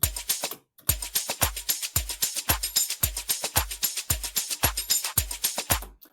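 Layered percussion loops from an amapiano track tick along in a steady, busy rhythm, with deep kick thumps under bright shaker and hi-hat hits, heard close and alone after a brief gap.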